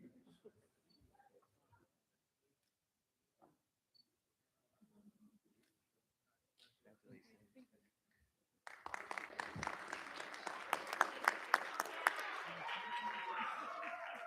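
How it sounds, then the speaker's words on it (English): Board meeting audience breaks into applause for the students of the month, a dense burst of clapping rising suddenly after scattered quiet talk and continuing steadily, moderately close. "Let's have another round of applause for all of our students of the month"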